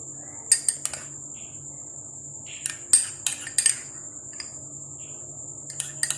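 A spoon clinks and scrapes in a bowl while cabbage, chicken and mayonnaise are mixed, giving irregular light metallic taps in short clusters over a steady high background hum.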